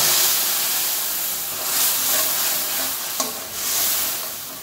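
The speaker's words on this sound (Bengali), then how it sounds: "এবারে সবগুলো ঢেলে দেব কড়াইয়ের মধ্যে।" Mustard and spice paste for a tengra fish and potato curry hits a hot kadai, producing a loud, steady sizzling hiss that swells and eases, with a brief clink near the end.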